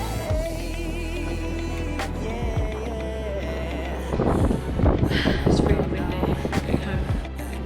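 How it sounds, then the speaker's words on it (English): Strong wind blows across Positano beach, with low rumbling gusts buffeting the microphone and growing rougher in the second half. "It's really windy."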